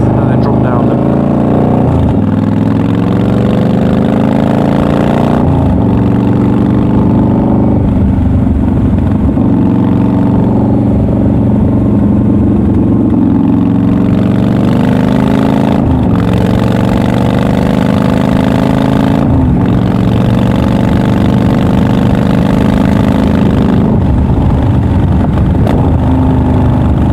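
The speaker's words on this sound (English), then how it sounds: "I'll accelerate through the gears and then drop down them" A motorcycle engine and exhaust, recorded from behind the rider, rise in pitch through several gear changes and then drop back down through the gears, loud and steady throughout.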